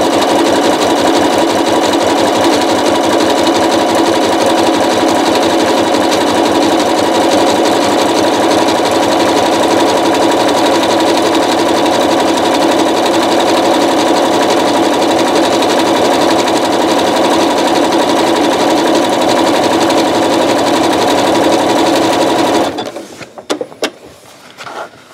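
A sewing machine stitches a rope bowl in a long, steady, close mechanical whir that runs for over twenty seconds, then stops abruptly, leaving a few brief handling clicks and knocks.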